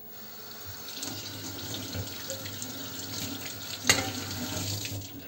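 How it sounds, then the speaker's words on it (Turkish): A burnt pot is rinsed under a running kitchen tap, a steady close gush of water splashing into the sink with a brief clank partway through. "Şimdi bir daha durulayacağım."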